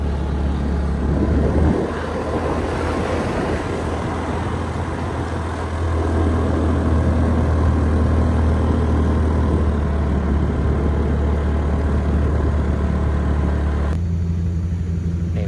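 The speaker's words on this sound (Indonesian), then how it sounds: "Ini motor gradernya lagi kerja." A motor grader at work on road construction at the end of the asphalt on a hillside road, heard as a steady low diesel rumble and engine drone that runs continuously, nearby and fairly loud, with no talk.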